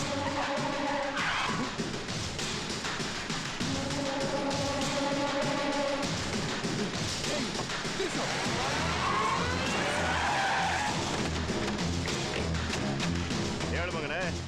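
In a Kannada film scene, a vehicle skids to a stop with tires squealing and an engine revving, mixed with music and people talking throughout.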